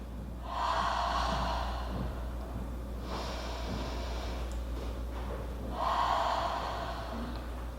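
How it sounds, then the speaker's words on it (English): Slow, deep breaths during a home yoga flow in mountain pose: long audible inhales and exhales, close and clear, with three drawn-out breaths and quiet between them. "Let's take 2 big deep breaths here in our mountain."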